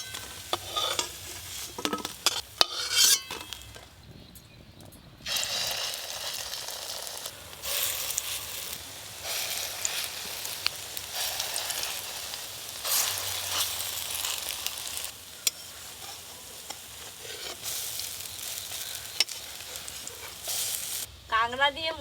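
Crab and lentil fritters frying in hot oil, a steady sizzle with stirring and scraping sounds throughout, close and fairly loud, briefly dipping near the start.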